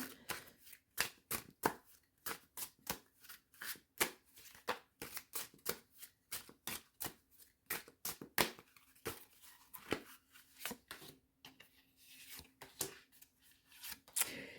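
Cards are drawn one after another from a tarot deck, giving a long run of quick, crisp papery flicks and slaps at a brisk, uneven rhythm, close and moderately loud, with a faint steady hum underneath.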